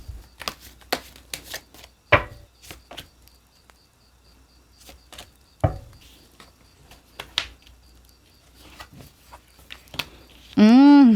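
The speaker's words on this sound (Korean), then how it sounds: "자, 그럼 조언 카드 뽑아볼게요." Tarot cards shuffled and handled in quiet bursts of soft riffles and taps, sparse and close, with a louder rising tone at the very end.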